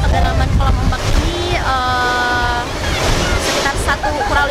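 Waves surge in a 2000-square-metre artificial wave pool at Bugis Water Park in Makassar, a constant loud rushing wash mixed with distant whistles and crowd voices.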